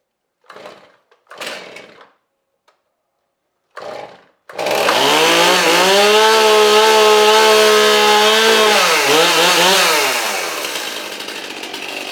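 A STIHL MS271 chainsaw with a newly replaced carburetor fires up after a few short pull-start tugs, then runs loud and steady at high revs before settling slightly toward idle.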